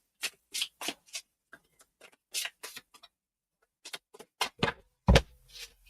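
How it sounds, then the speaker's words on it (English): Tarot cards being shuffled by hand, heard as a string of crisp, close riffling snaps and taps in uneven bursts, ending with a louder slap. "I'm going to do a quick shuffle"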